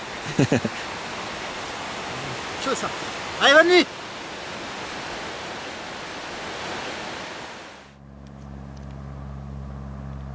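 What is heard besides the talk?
waterfall rushing nearby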